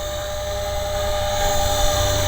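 Helicopter flies at a helicopter-only flying field in Apopka, Florida, its rotor and turbine making a steady loud whine with a constant high tone over rumbling low noise.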